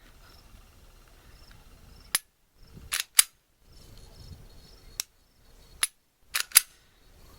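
Glock 20 SF pistol fitted with a Hi-Point carbine ghost connector in the trigger assembly, giving sharp isolated mechanical clicks: one single, a close pair, another single and a final close pair, over quiet room hiss.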